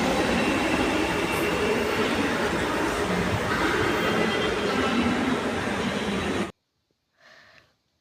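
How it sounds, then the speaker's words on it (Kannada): A metro train rumbles in loudly with steady rolling wheel noise, then it cuts off and a brief faint sound follows. "ಈಗ ಮೆಟ್ರೋ ಬಂತು"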